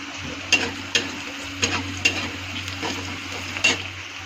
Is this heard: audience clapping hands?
no